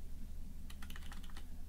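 Quick burst of keystrokes on a computer keyboard while a Raspberry Pi is set up for debugging, about a dozen rapid clicks under a steady low hum.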